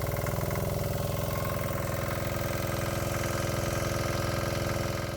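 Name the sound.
diesel engine of Cushman Desperado golf cart running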